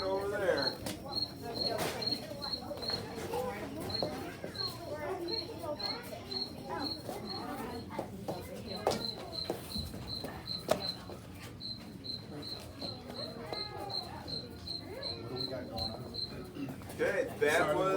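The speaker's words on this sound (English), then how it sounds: "Okay, that was a field cricket." A recorded field cricket played in a classroom, giving a repeated high-pitched chirping in regular pulsed bursts that runs through the whole stretch, with people talking and moving in the room over it.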